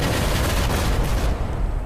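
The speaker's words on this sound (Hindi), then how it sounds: "लेकिन तभी मंदिर के बाहर से धमाके की एक तेज आवाज आई।" Loud, dense explosive blast outside a temple, a heavy rumbling burst filling the whole moment before fading slightly at the end.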